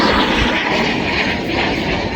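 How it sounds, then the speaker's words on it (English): A private jet at the Manchester Airport runway gives off a loud, continuous engine roar with a broad rushing hiss, steady and close throughout. "Private jet."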